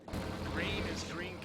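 Artillery and tank cannons fire in a Company of Heroes 2 match, a dense, sustained barrage of booms and rumbling blasts with whistling shells overhead, loud and continuous for over a second, with voices partly under the battle noise.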